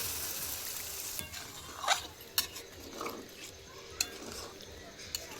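Spicy mutton curry with potato and papaya being stirred in a pot, quiet scraping strokes and a few sharp clinks of the spoon against the metal, faint and intermittent over a low background hiss.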